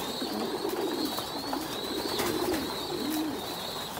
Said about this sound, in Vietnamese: Đây chim bồ câu ra đàn này.